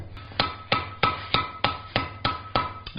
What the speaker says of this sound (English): it's a little over 3-pound hammer I'm using